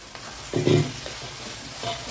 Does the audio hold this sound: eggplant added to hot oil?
yes